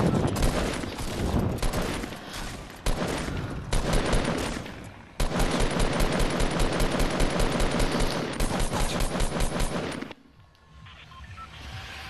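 Assault rifle gunfire in the Fortnite video game rattles out in long, rapid, loud bursts with brief pauses between them, then cuts off to quieter game ambience.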